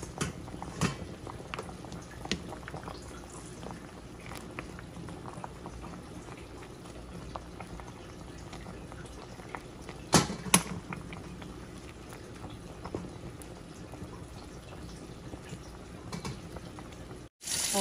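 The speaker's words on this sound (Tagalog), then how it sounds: "Pinapakuluan muna natin." Water boiling at a steady rolling simmer in a pot while nilaga is being cooked, with continuous bubbling and a brief louder burst of activity partway through, no talking.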